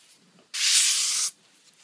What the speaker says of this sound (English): deburr it on the cutting board